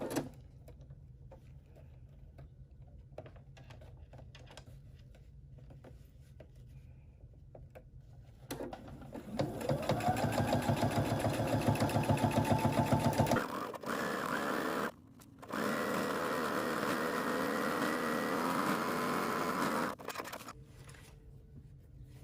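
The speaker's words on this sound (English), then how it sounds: "let's begin top stitching our brim" Sewing machine top stitching the brim of a baby's sun hat: after a quiet stretch of faint ticks, a steady mechanical whir runs for several seconds, pauses briefly, then resumes before stopping.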